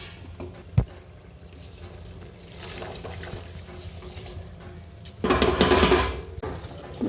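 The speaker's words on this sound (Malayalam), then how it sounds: "വെള്ളം തിളപ്പിച്ച് വെച്ചിട്ട് അതിലേക്ക് ആവശ്യമുള്ള അത് ഒഴിച്ചു കൊടുക്കുക" Quiet kitchen noise, then near the end a short, rushing pour of boiled water into a pot of rice and mandi masala.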